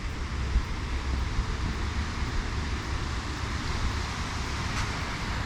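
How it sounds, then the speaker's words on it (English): Steady broadband rumble of wind buffeting outdoors in Duluth, Minnesota, constant and fairly loud, with no voices. "it will probably be a little windy out here"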